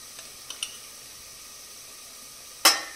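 Turmeric and coriander powder hit frying onions in a pan, giving a soft steady sizzle broken by a few light taps and one sharp metallic scrape of a spoon near the end.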